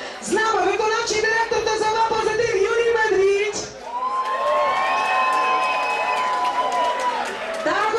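An audience cheers and whoops for contestants at a beauty pageant, loud crowd shouts with a few high cries of cheering that swell and then fade, as music or a voice continues over the noise.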